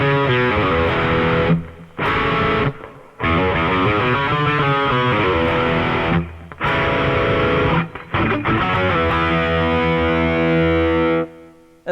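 An electric guitar played through an amp in a direct recording setup rings out with distorted, effects-laden chords and riffs, loud and alone, broken by several short silent gaps between phrases.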